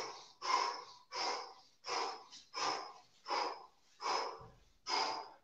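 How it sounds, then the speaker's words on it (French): Explosive nose-to-mouth recovery breathing during an exercise session: about eight forceful, evenly paced breaths, each a sharp rushing burst separated by short pauses, close and fairly quiet with no talk. "je vous invite à faire une respiration nez-bouche, respiration explosive"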